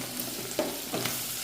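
Egg curry stirred in a pan, a couple of quick scraping strokes over a faint, low sizzle.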